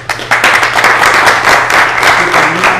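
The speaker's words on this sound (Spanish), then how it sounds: "otro aplauso" Loud, dense applause from an audience, sustained clapping throughout with a few voices mixed in.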